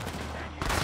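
A short burst of rapid gunfire from the video game Borderlands 3, loud and close, with a dense rattle of shots that gets louder near the end.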